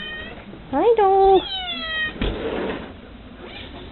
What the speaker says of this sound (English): We got a new cat, so they've been picking on each other